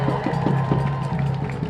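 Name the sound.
rally crowd applause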